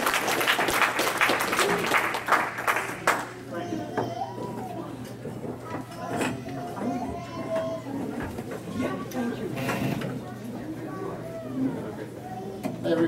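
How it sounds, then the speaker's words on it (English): Applause for a band at a toast and roast event, strong clapping in the opening seconds that fades into scattered claps under ongoing talk and crowd chatter. "Let's give them another round of applause"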